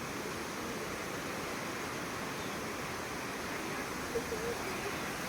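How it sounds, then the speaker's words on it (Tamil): The Lakkam waterfall in Munnar flows gently as a steady, even rush of water, soft and continuous throughout, with no other distinct sounds. "இங்கே இருக்கக்கூடிய அருவியோடைய அந்த மெல்லிய இறைத்தல் சத்தத்தை உங்களால் கேட்க முடியுதுன்னு நான் நினைக்கிறேன்"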